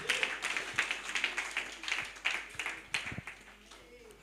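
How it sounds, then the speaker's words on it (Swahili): A church congregation at a live Sunday service claps steadily together, a sustained crowd patter of hand claps, fairly close and continuous, slowly thinning toward the end. "Tumpigie makofi mpaka afike mahali hapa."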